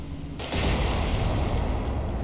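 Battleship guns fire in the naval video game War On The Sea during a Washington versus Kirishima engagement, opening with a sudden heavy boom after a quieter moment and followed by a sustained, loud rumbling roar of gunfire and explosions.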